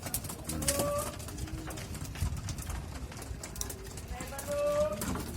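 Cooing from a young pigeon kept in a coop, soft low calls repeating close by and partly under someone talking in Tagalog.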